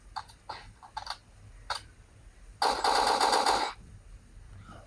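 Gunfire in the Zombie Battle Tycoon video game: a few sharp single shots, then a dense loud burst of rapid automatic fire lasting about a second, fairly close and clear.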